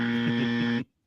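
A single electronic game-show buzzer sounds once, a steady harsh tone that lasts under a second and then cuts off abruptly into silence.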